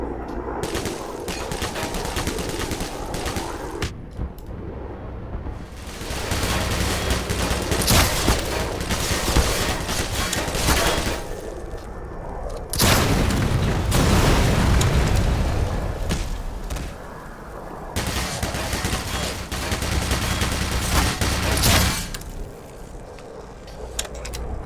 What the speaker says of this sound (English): Turrets. God damn.